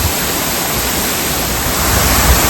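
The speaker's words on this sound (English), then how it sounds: "Only about a 5-minute drive to the next waterfall, and here it is, Elinja Falls." Elinja Falls, a waterfall in Queensland, Australia, pours in a steady, dense broadband rush, loud and close, with no voices over it.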